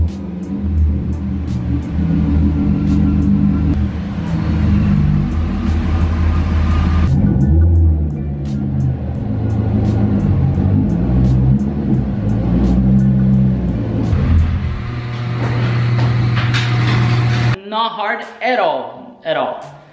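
Steady Chevrolet C6 Corvette engine rumble with low droning road noise throughout, shifting slightly as the car turns around, ending with a few scattered higher sounds.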